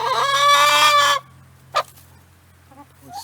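Chickens in a backyard coop let out a loud, drawn-out squawk up close, followed by a short cluck and a few softer clucks after a pause.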